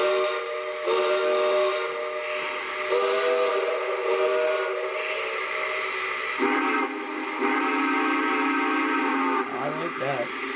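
A steam train whistle sounds in several long, loud blasts with brief gaps between them, sustained and harmonically rich, ending in a wavering call.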